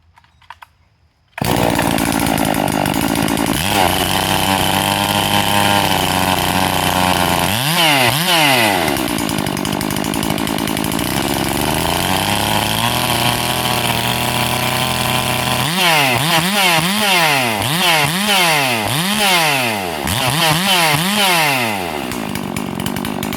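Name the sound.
Farmertec G444 chainsaw cutting wood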